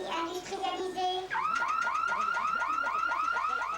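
Electronic alarm sounding nearby: after a brief warbling tone, a rapid repeating whoop pattern of rising sweeps cycles steadily and loudly to the end, with no talk.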